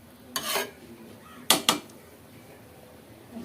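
A spoon stirs chepa shutki, a dried fish dish, in a cooking pot, making a few sharp scraping knocks against the metal, one early and a quick pair later, over quiet background.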